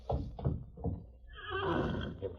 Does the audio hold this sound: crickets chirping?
no